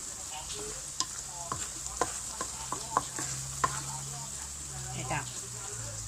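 A northern Thai tomato chili dip with pork, chili and egg fries and sizzles in a pan, with scraping stir strokes at intervals and someone talking over the cooking.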